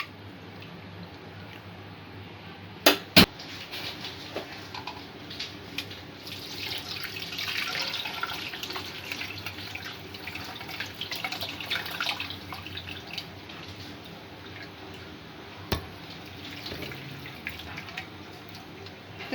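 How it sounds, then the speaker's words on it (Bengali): Chicken stock being strained through a strainer, a continuous soft watery trickle and splash running throughout, with a couple of sharp knocks near the start and one near the end. "স্টকটা আমি ছেঁকে নেব।"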